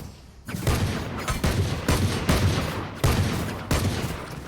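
Several close, loud shotgun blasts from the Valorant video game fire in quick succession, each a sharp broadband burst with a short decaying tail, spaced roughly half a second apart with no talk over them.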